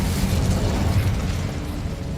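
The Incendio fire spell in Hogwarts Legacy erupts as a loud, rumbling blast of flame that roars continuously for a couple of seconds, ending in a sharp final pop.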